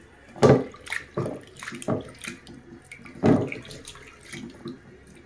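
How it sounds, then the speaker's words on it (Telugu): Tap water running with intermittent splashing and sloshing as lentils are washed in a bowl, several louder bursts standing out, close by. "మనం పప్పును ఫస్ట్ కడిగేసుకుందాం"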